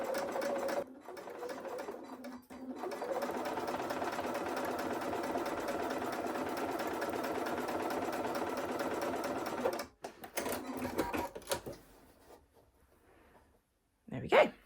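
Sewing machine chain piecing quilt blocks, a loud continuous whir close by for about ten seconds, then shorter bursts and handling noises, with a dog barking faintly at times.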